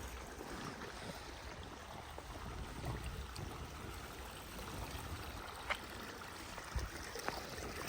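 Irrigation water runs through a field channel in Spain in a soft, continuous flowing rush with faint trickling, quiet and even, with a few small splashes near the end.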